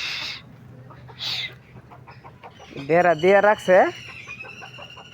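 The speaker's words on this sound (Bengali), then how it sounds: "মুরগির অবস্থা, মুরগির জ্বালা শান্তি নাই" Chickens cluck and call near a fenced farm plot, with a loud run of harmonic, rhythmic calls midway, while people talk over the quieter stretches.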